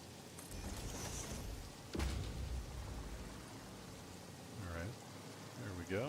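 Steady rain falling in the desert in the video game Satisfactory, a continuous soft hiss with a brief louder swell, while someone talks over it.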